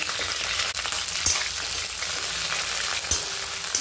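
Cauliflower frying in oil for a Veg Kolhapuri, a dense, continuous loud sizzle close up with a few faint stirring knocks, no talking.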